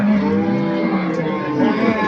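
A cow lows at a busy cattle market in Joypurhat, a sustained tonal moo carried over dense crowd noise and chatter, with people talking close by.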